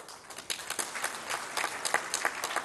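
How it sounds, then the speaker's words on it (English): Audience applause at a Pakistani awards distribution ceremony addressed by the Prime Minister, a steady patter of many hands clapping at moderate distance with scattered louder claps, no talk over it. "a round of applause for His Excellency"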